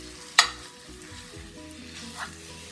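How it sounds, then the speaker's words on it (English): Maple sausage sizzles in a cast iron skillet, a soft, steady frying hiss, with a sharp scrape of stirring early on and a fainter one near the end. "And we're going to let our sausage cook until all the meat is brown."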